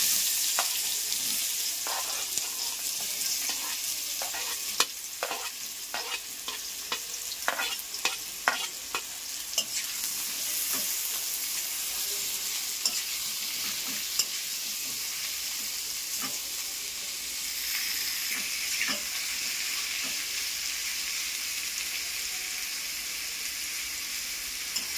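Jackfruit pieces frying lightly in oil left from potatoes, a continuous soft sizzle broken by many sharp clicks of a spoon stirring in the pan, with no talk.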